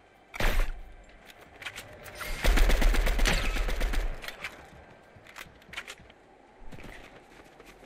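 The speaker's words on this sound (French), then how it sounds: "Ça tire là-bas." Gunfire bursts in a Fortnite trio match: a sharp shot near the start, then a dense, loud volley of rapid fire for about two seconds, followed by scattered lighter shots further off, with no talking.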